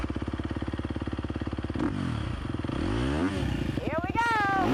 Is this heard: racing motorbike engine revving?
yes